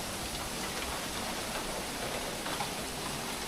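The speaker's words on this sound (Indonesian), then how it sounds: "bunyi semua tuh, anginnya gede banget sih" Strong wind rushes through a bamboo grove beside an old sacred grave in Majalengka. It makes a dense, even rustling hiss that stays loud and close throughout, with no voices.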